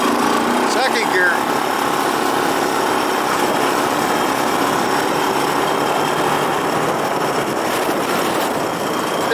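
A Honda ATC three-wheeler runs in second gear, its small engine droning loud and close in a steady, unbroken note.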